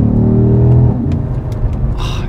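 Porsche Panamera turbo engine running without its turbochargers, revving hard with a loud, deep harmonic drone that climbs then settles into a rumbling idle-like burble, with faint crisp ticks near the end.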